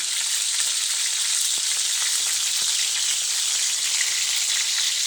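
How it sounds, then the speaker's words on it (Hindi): Beef reshmi kebabs frying on a tawa over medium heat, producing a loud, steady, continuous sizzle of hot oil, close up and unbroken throughout. "ये देखिए, ये हमारे कबाब बन रहे हैं। इसको आपने मीडियम ऑन पे पकाना है ताकि ये एकदम से जल ना जाए।"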